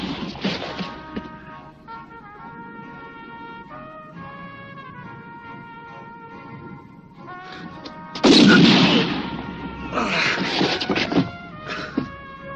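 Gunfire in a western film: a sharp shot rings out early, then after a stretch of music a loud blast erupts, followed by further cracking bangs over a droning score.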